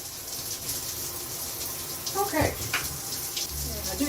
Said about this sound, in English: I'm too quick to put water in it.